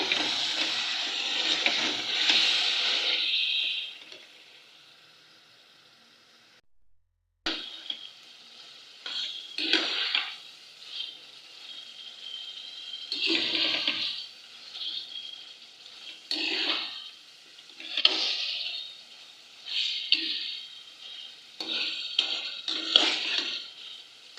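Chicken and boiled turnip sizzle and bubble in a pan after water is poured in, with a loud burst of hissing followed by a pause, then intermittent stirring and spluttering bursts.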